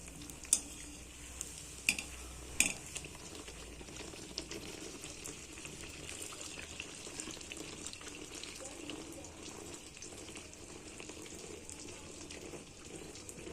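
Coconut-filled pitha frying in oil, a steady soft sizzle with a few sharp utensil clicks early on, at moderate distance.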